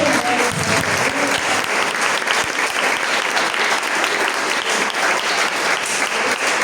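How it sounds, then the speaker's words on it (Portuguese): Sustained applause from a church congregation during a worship service, dense and steady throughout at a loud, even level, with a faint voice or two underneath. "Uma salva de palmas."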